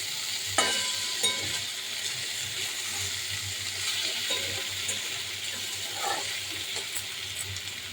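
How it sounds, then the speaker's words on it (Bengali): Ivy gourd and potatoes frying in a pan, a continuous low sizzle with occasional soft clinks and scrapes of a spatula spread across several seconds, moderately close and without speech. "এইদিকে দেখো কুঁদুরি আর আলু ভাজা করছি"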